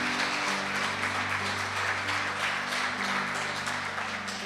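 Sustained applause from a large church congregation, dense and continuous, with a steady organ or keyboard hum beneath.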